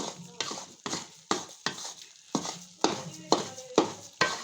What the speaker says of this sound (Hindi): अब अच्छी तरह से हम बेसन की करते हैं भुनाई।